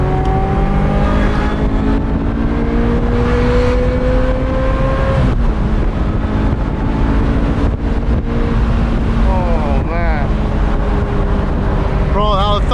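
A 25-year-old Ferrari engine screams through a tunnel, revving hard toward 9000 RPM in rising harmonic sweeps between quick gear shifts, very loud and close with echoing reverberation and voices talking over it.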